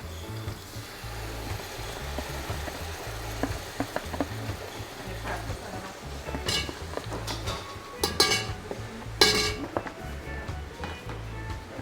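Curry crab cooks in a pot in a home kitchen in Bon Accord, Tobago, giving a steady bubbling sizzle with occasional clinks of utensils against the pot, fairly quiet.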